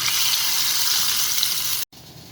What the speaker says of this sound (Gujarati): હવે આ વઘાર આ ખીરા પર આપણે રેડી દઈશું।